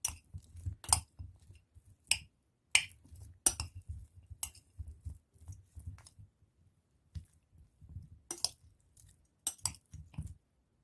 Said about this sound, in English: you just mix it like you're marinating